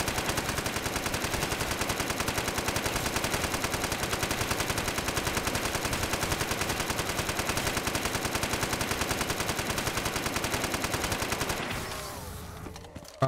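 A Browning machine gun in Call of Duty Custom Zombies fires one long unbroken burst of rapid, evenly spaced shots, loud and steady for about twelve seconds before cutting off.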